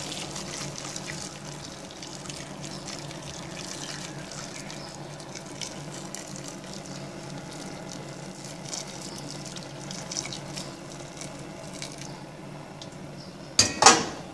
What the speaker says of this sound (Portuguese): Aí vamos colocar aqui a nossa água.